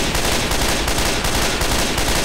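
Dense, continuous automatic gunfire from the video game Left 4 Dead 2, loud and relentless with rapid overlapping shots throughout.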